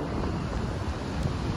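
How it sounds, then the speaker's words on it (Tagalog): Strong wind buffets the microphone at the Half Moon Bay shore while big waves roll in, a dense, constant roar with low rumble and no voices. "malalaki yung alon, at saka malakas ang hangin, sidewash, malakas"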